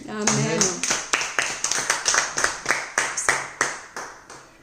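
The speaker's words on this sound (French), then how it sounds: "c'est d'applaudir Dieu" Rhythmic clapping offered to praise God in worship, a small group clapping in a steady beat of sharp, evenly spaced claps, about three per second, with a voice heard at the start.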